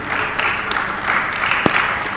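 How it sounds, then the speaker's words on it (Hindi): A seated audience at a Jain religious question-and-answer discourse claps steadily throughout, a dense, even patter of many hands with one sharper clap near the end. "एक बार जोरदार ताली बजा दीजिए।"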